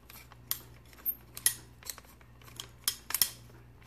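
Small retention screws are unscrewed from the top of an Ultrasabers Dark Menace lightsaber hilt, making sparse, sharp metallic clicks and ticks close up over a faint low hum.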